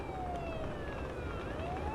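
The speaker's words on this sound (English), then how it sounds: "Toggle siren" Ambulance siren in the Ambulance Life: Paramedic Simulator game, a steady wailing tone slowly sweeping up and down over a constant engine rumble, with no speech.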